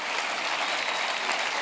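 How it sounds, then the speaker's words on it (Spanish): A church congregation at a Sunday devotional service applauds, a dense, steady burst of many hands clapping at once with no voice over it. "Dale un aplauso al Rey bendito."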